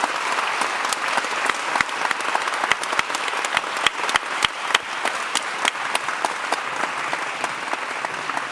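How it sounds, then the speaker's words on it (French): An audience applauds Bertrand Piccard at the official inauguration of Le Monde Nouveau 2021: dense, steady clapping from a large crowd that holds for the whole stretch, with no voices over it. "On applaudit Bertrand Piccard."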